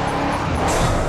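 A Dodge Challenger accelerating in the racing game Grid 2, heard as a brief, continuous loud engine roar with a rising whine near the end, close and dense.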